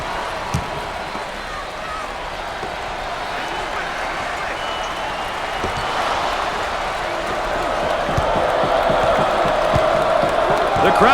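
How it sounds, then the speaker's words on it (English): A crowd chants and cheers inside an arena during a college basketball game in NCAA Basketball 10. The roar swells steadily, with sneaker squeaks and ball bounces, and a commentator talks over it. "The crowd begins to chant."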